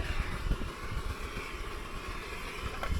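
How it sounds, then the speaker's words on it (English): A camping stove burner roaring at full blast, a loud, steady rushing hiss with a low rumble, continuous and close with no pauses. "What is going on with this stove?"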